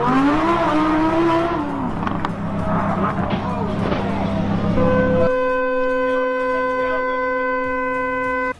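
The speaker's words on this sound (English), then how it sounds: "Lamborghini crashed while showing off." A Lamborghini crashes while showing off, with a loud engine roar, tire squeal and scraping mechanical clatter, followed by a steady, sustained electronic tone ringing out after the impact.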